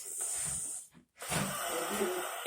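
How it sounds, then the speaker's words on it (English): A sleeping child snores loudly, with long rough breaths up close and a short silent break between them. "This child snores louder than your grandpa."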